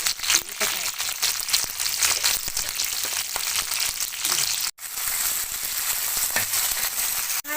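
Chillies, coriander and cumin sizzle steadily in a hot pan, a continuous close crackling hiss with brief stirring clatters, cut by a short silent gap near the end.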